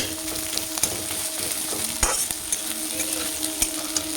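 Potatoes and egg frying with ground roasted cumin in a pan, a steady close sizzle broken by repeated scraping taps of a spatula as it is stirred.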